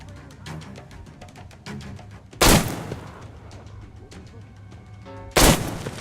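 Gunfire in the video game Metro Exodus: two loud, sharp gunshots a few seconds apart, with quieter clicks and ambient game sounds between them and no talking.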